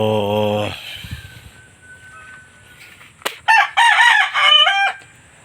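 Roosters from a red jungle fowl and Peruvian gamefowl cross crow close by, one long crow at the start and another stuttering crow later, with soft clucks and quiet background between.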